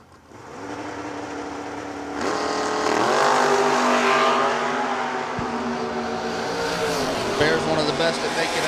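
Drag race cars, a Monza in the left lane against Chris Baer's car on the right, roar off the line at an event and scream loudly down the strip, engines rising in pitch, with an announcer talking over them.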